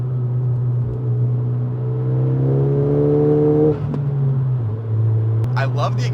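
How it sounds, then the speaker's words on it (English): A Honda Civic Si drones through its exhaust while driving, a steady low engine hum with rising tonal overtones that dips as the revs change, with a brief voice near the end. "I love the exhaust because it does drone at a certain point, but it doesn't drone that much that it's actually annoying"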